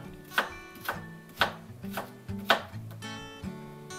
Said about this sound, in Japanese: このくらいの薄さでみじん切りにしていきます